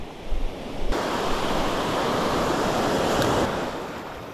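Sea waves surge while fishing from shore, a loud, rushing wash of surf that swells after a brief bump, holds steady, then eases off near the end, with no voices.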